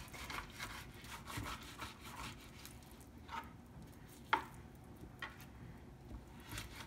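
Knife slicing salmon for a salad, soft scraping cuts with a few sharper taps against the board, close and faint in a quiet kitchen.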